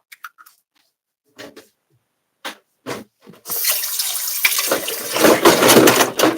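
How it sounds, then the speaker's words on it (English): Hot tap water runs steadily into a home kitchen sink while pierogi dough is being made from scratch, a loud continuous rush that swells toward the end, preceded by scattered small clicks and handling noises. "I got water in my sink."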